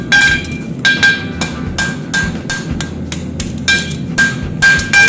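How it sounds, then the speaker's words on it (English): A farrier's hammer strikes hot steel on an anvil while forging the heel of a horseshoe, ringing metallic blows landing in irregular clusters and single hits, loud and close with bright clanging overtones and no speech. "Forge the heel."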